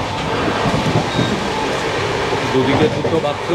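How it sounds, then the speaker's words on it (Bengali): Steady rumble and rattle inside a Rajdhani Express first-class coach running on the rails, a continuous loud drone with a brief swell near the end, under someone speaking. "ওই দেখ, ট্রেন যাচ্ছে।"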